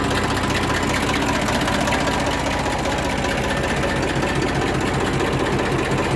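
A Massey Ferguson 1035 tractor with about 4,494 hours, in good condition with no leaks, idles with a dense, steady diesel clatter, close and continuous throughout, with no talk.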